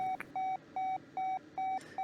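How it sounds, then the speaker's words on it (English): A glider variometer in the Condor 2 flight simulator beeps in a steady repeating pattern of short, evenly spaced electronic tones, about five in two seconds, clean and prominent over a low background hum. "You know when that vario thing beeps, you have to turn."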